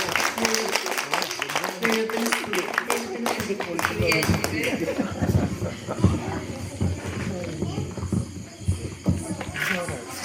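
Applause rises from an audience welcoming Sister Rani Maria onto the stage at a church ward anniversary celebration, a dense stretch of clapping that runs the whole time with voices and crowd noise mixed in.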